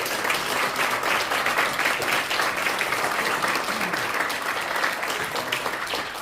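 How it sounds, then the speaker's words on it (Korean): Warm, sustained applause fills a symposium hall at the CCMM building in Seoul, a loud, even crowd clapping that carries on throughout. "우리 따뜻한 박수 한번."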